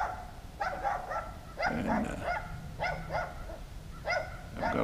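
A dog at a sawmill barks in short, repeated bursts of two or three yelps, with brief pauses between them. The barking is moderately close and clear over low background rumble.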